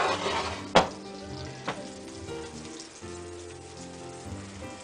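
Breaded vegan chicken scallopini frying in a pan, a steady close sizzle with a sharp clatter near the start and a softer knock later, no talk.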